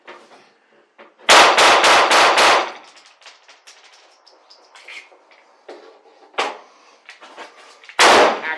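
A SIG Sauer P226 fitted with a .22 adapter fires CCI high-velocity .22LR target rounds: a fast string of five sharp cracks, then two lone shots after a pause, loud and close, with no talk.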